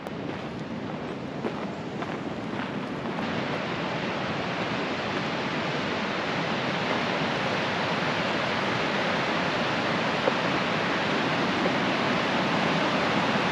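Constant broadband rush of the Green River in Utah in winter, rapids loud and close, steady throughout with a faint windy texture and no voices.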